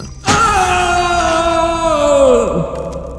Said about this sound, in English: A succession of loud and shrill screams bursting suddenly from the throat of the chained form seemed to thrust me violently back.